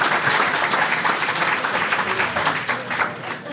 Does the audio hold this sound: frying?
no